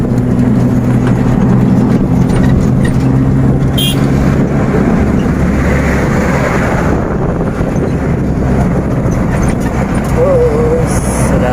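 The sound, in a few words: riding in a vegetable truck, engine running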